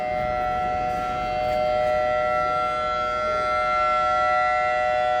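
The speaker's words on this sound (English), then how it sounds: "Not police, ambulance, or fire sirens, but those air raid weather alert sirens." Outdoor air raid weather alert sirens sound a loud, sustained wailing tone that carries steadily across the whole stretch, with faint background noise and no speech.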